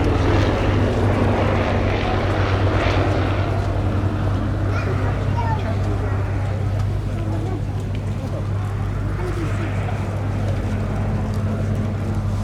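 A Bristol F2.B Fighter biplane flies past at a Duxford airshow, its propeller engine a continuous rumbling drone under an announcer's commentary.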